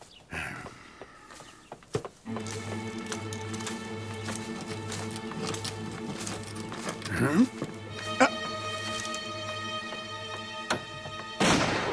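A single sharp rifle shot cracks out early, standing clear above a busy outdoor background of tonal sounds and animal noises.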